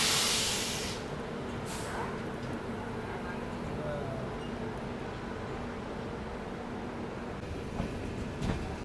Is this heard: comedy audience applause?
no